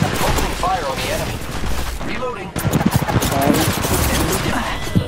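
Rapid gunfire bursts in the mobile shooter game Apex Legends Mobile, dense and continuous, heard with players talking excitedly over it.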